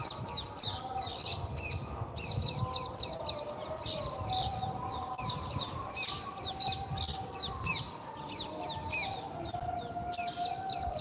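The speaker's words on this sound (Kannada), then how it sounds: "ಇವತ್ತು ಇಲ್ಲಿದ್ದಾವೆ ಗಿಳಿಗಳು" A flock of parrots keeps up constant shrill, squawking calls, many overlapping chirps layered over a low outdoor rumble.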